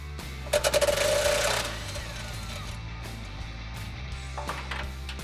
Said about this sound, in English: I'm going to use a 13mm socket on a long extension to get that out